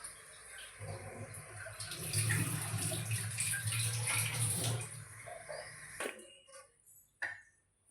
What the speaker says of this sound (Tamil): சீனி பாகு அப்படியே அந்த வதக்கி வச்ச ரவையில் ஊற்றிடலாம்.